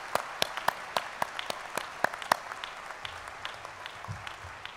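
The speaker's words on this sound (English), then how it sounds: "Please give them a round of applause." Scattered, thin applause with separate distinct claps at a college commencement ceremony as faculty and staff rise, fairly faint and spread across the hall, with a little low murmur near the end.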